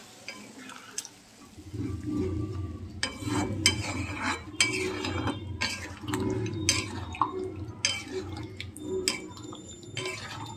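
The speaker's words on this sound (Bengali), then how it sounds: "এবার এর মধ্যে অল্প একটু সামান্য জল দেব, দিয়ে একটু ফোটাবো।" Stirring and sizzling as a little water goes into a simmering stingray fish masala in oil, with spoon scrapes and clinks against the pan, soft bubbling and drips continuing throughout, close by.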